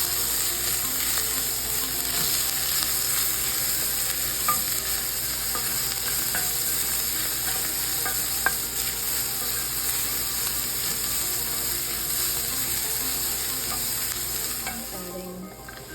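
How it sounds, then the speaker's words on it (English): Ground beef and crushed garlic sautéing in butter for shepherd's pie, a continuous loud sizzle with scraping spatula strokes and a few sharp clicks, close by, no voices. "While this is sauteing, I'm going to add 3 cloves of crushed garlic."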